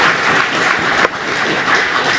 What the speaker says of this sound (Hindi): एक बार जोरदार तालियां उठ जाए यार